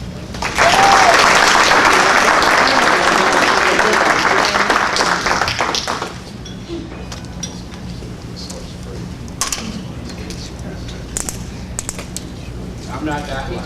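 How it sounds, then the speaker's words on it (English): A room of guests at a chamber of commerce networking reception breaks into loud applause for the acting Secretary of Transportation, dense clapping for about six seconds, then fading to scattered claps and murmured talk. "I like for you to give him a round of applause."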